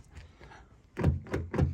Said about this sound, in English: Let's attempt to open the door.